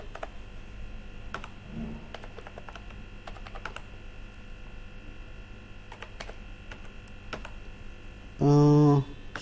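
Typing on a computer keyboard while entering subjects into a marks table in Microsoft Word: scattered clicks of keys in small bursts over a low mains hum, ending with a brief loud burst of noise.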